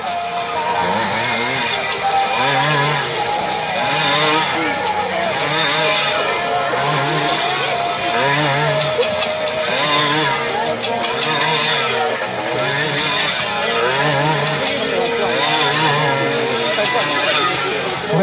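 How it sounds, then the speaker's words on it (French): Motorcycle engines rev and whine continuously inside a globe of death, rising and falling in a looping rhythm, loud and close, with crowd noise and an announcer's voice underneath. "Michael est sur la moto, Linda est debout au centre du globe."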